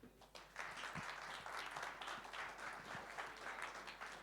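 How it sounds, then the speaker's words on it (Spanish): An audience at a district energy conference claps steadily for a few seconds, a faint, distant-sounding wash of applause with no voices. "Por favor, adelante y démosle un fuerte aplauso."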